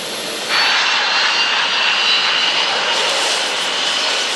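Airliner jet engines roar at high power during a takeoff run, a loud, steady broadband rush that swells and holds without pause, with no voices over it.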